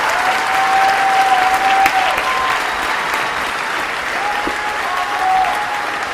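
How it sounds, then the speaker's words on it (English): Recorded audience applause plays as a soundtrack during a Camden live stream, a steady wash of dense clapping at even loudness with a faint crowd murmur underneath, running for about six seconds. "We're all clapping."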